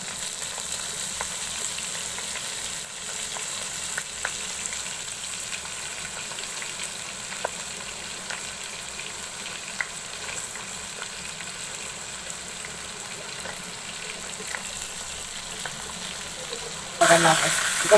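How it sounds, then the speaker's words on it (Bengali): Beef steak fries in oil in a pan over low heat, giving a steady, even sizzle that carries on for a long stretch, with a brief louder burst near the end. "চুলার আঁচটা লোতে রেখে ভেজে নিতে হবে"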